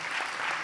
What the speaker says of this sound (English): We're going to clap even before they say it.